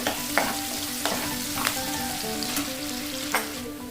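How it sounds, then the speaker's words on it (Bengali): Sliced onions fry to brown in hot oil, giving a loud, continuous crackling sizzle with a few sharper spatters and occasional stirring scrapes, close by and without any voices. "পেঁয়াজটা ভেজে নেব, ব্রাউন করে ভেজে নিতে হবে।"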